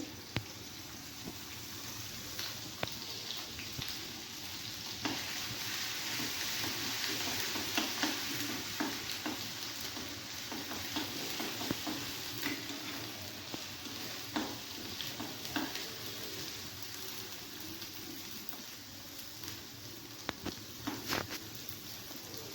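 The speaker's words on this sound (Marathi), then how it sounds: "कढई गरम झाली आहे आपण तेल टाकू इथं दोन पळ्या तेल टाकले अद्रक लसूणची पेस्ट टाकले" Ginger-garlic paste fries in two ladles of oil in a hot kadhai for a paneer curry, a soft, continuous sizzle with occasional scraping stirs over about twenty seconds.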